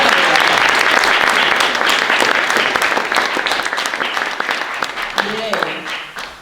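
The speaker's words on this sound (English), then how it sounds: "Can we do another round of applause?" A room full of people applauds at a community gathering, dense sustained clapping that gradually thins and fades, with a voice speaking briefly near the end.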